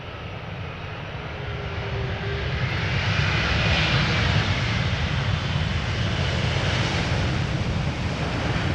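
United Airlines Boeing 777-200ER, 26 years old, landing in crosswind at Amsterdam Schiphol, a broad steady jet roar that swells as the airliner passes near and stays loud to the end.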